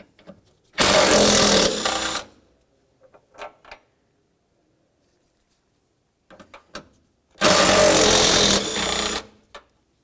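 Two bursts of a power ratchet or impact tool spin 15mm bolts off the radiator support bar of a 2000–2005 Buick LeSabre. Each whirring run lasts about a second and a half and is followed by faint metallic clicks and handling noises, with no talk.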